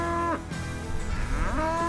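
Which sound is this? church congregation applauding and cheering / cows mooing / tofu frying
cows mooing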